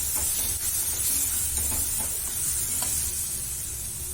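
Raw mango sambharo being stirred in a pan with salt, turmeric, coriander-cumin powder and red chilli powder, a steady close sizzle with soft scraping stirs running throughout, no voices.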